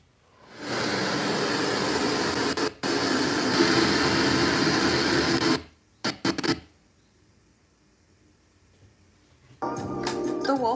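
A jet airplane engine roars steadily in news footage of a plane landing in El Salvador, a loud broadband rush lasting several seconds with brief cuts and silence before it resumes.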